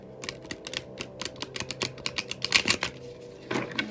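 Tarot card deck being shuffled by hand, a quick run of close, crisp card flicks and taps, fairly quiet, with a brief pause before a final burst.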